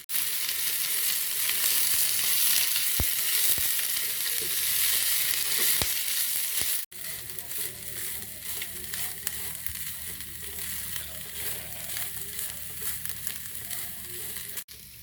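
Moringa leaves stir-frying with grated coconut in a pan for pol sambola: a steady, loud sizzle with brief scraping stirs, a short break near the middle, then a softer continued crackle.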